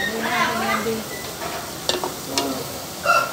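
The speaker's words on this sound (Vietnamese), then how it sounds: "Mình sẽ xào tái cái rau đi, bắt đầu mình mới sẽ trộn chung cái hàu này với lại cái con với lại cái rau này là ok." Oysters and celery stir-fry in a hot pan over high heat, a steady close sizzle broken by scraping stirs, with a person talking faintly underneath.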